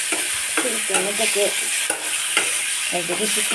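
Barila fish frying in a pan, a loud, steady sizzle of hot oil broken by intermittent stirring scrapes and clinks.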